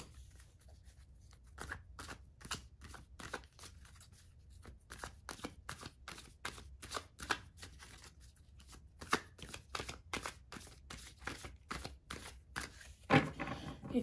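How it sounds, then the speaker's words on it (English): Steady, quiet riffling and tapping of tarot cards being shuffled, with rhythmic flicks repeating throughout and no talking. "I always like to shuffle some more."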